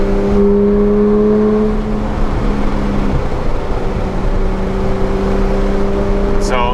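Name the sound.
Porsche GT3 cars speeding down airport strip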